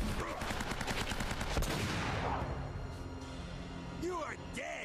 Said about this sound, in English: Who is shooting at us from this angle?